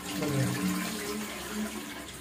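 Water rushes steadily from a toilet flush cock on a freshly tiled bathroom wall, a close, continuous flow at moderate loudness with no talk.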